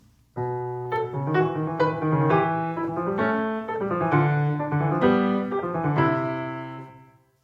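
Piano playing a bridge passage between entrances in a Bach fugue from the Well-Tempered Clavier, interweaving contrapuntal lines with clear sustained notes in a steady flowing rhythm, solo and close.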